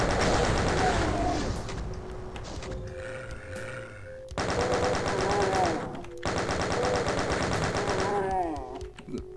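Rapid machine-gun style gunfire from a monster in the 1993 Doom video game, loud repeated bursts broken by short pauses and other game sound effects.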